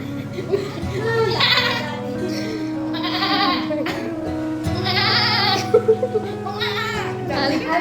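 A goat bleats several times at close range while people talk and laugh around it, with children's voices in the background.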